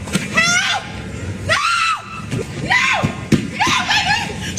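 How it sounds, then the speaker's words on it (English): A woman's frantic, high-pitched screams for help at a gas station come in repeated bursts, loud and close, with brief gaps between cries. "She's heard frantically screaming for help."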